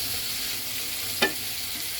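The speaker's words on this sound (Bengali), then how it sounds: "ডাল রান্না করে এখন বেবির জন্য তরকারি বসাইলাম" Fish and tomato curry for a baby simmers and sizzles in a pan, giving a soft, continuous frying hiss with a single sharp clink midway.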